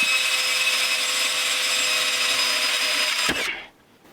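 A steady high-pitched whine of a power drill boring into a stainless steel sink for about three seconds, then it stops abruptly and the sound fades out.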